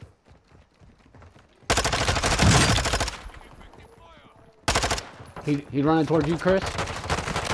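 Bursts of rapid automatic gunfire from Call of Duty: Modern Warfare II, two loud sustained volleys separated by a pause, with players talking before and between the shots.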